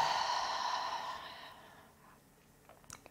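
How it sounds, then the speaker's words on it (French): A long, breathy exhale through the mouth during a Pilates warm-up, heard close and soft, fading gradually over about two seconds before a faint rustle. "Et j'expire longuement avec ma bouche."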